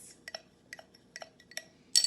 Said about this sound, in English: Now we're going to give everything a good mix.